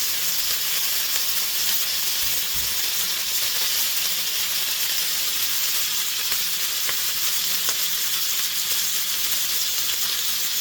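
Bacon frying in a pan while cooking for a cheese-stuffed loaded burger, giving a steady, dense sizzle and hiss that runs close and loud for the whole stretch with no talk over it.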